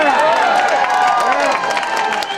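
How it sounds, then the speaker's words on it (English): Rally crowd cheering and whooping for a congressional candidate in Rockville, Maryland, a steady loud roar of voices with overlapping shouts and clapping throughout. "Is that a cheer for Van Holland?"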